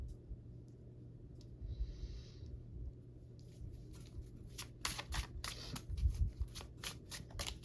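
Quiet rustling and a series of crisp riffling snaps as tarot cards are shuffled by hand, growing louder and more rapid toward the end.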